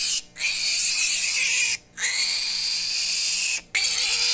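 A small pig squeals in three long, loud, shrill bursts separated by brief pauses, close and without any talk over it.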